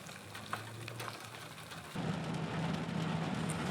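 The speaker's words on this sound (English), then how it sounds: "we hit the road with high hopes of some good finds, aided by the rain coming down all around us." Steady rain pours down around a car on a desert road near Alice Springs, a dense even hiss that grows heavier and louder partway through, with engine rumble beneath.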